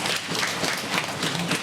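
Steady applause from the audience at a Bulgarian national poetry contest final on blood donation, dense and even for the whole stretch.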